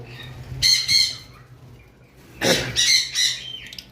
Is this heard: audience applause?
no